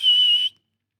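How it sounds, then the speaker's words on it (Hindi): A single loud, sharp whistle blown near a tunnel entrance, sustained at a high steady pitch for about half a second and then cut off into silence, heard alone with no talking. "तब वह माधवी कोतवाल को एक सुरंग के पास ले गई और जोर से सीटी बजाई"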